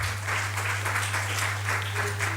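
An audience at a gender-equality conference gives a round of applause, a steady, moderately distant wash of clapping over a constant low electrical hum.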